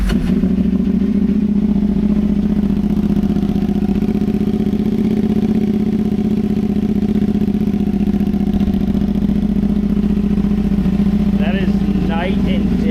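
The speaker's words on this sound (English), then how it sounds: "So let's go ahead and get a cold start on it." A CFMOTO 450SS motorcycle fitted with an IXIL exhaust idles after a cold start, a loud, steady, low throbbing drone held evenly throughout, with a brief blip of higher engine tone near the end.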